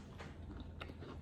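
Biting into and chewing a crunchy piece of freshly baked pound cake, two or three soft crisp crunches close to the mouth, quiet and brief with no talk.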